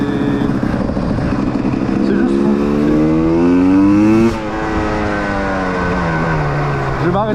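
KTM 300 TPI motorcycle with its two-stroke engine revving and accelerating up through the gears, loud and close, the pitch climbing in steps before easing off, with someone speaking briefly over it.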